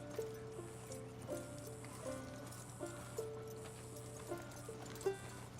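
Horse hooves clip-clopping in Red Dead Redemption 2, a series of regular hoof thuds at a walking pace under steady game music, fairly quiet and evenly spaced.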